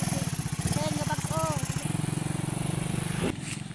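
A motorcycle engine runs with a steady low pulsing throb that cuts off near the end, with voices heard over it.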